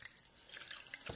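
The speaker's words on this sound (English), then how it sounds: "I'm pouring them into a measuring cup because I want to see how much oil I actually have." Hot oil with simmered herbs poured carefully into a measuring cup, a soft, steady liquid trickle that swells slightly toward the end, close and quiet with no talking.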